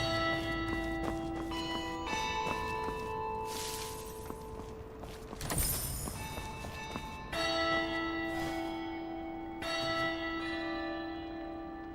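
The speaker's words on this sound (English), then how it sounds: "钟" A large church-style bell tolls repeatedly at a slow, steady pace, each loud strike ringing out with a long humming decay, accompanied by faint footsteps and clip-clop sounds in an eerie setting.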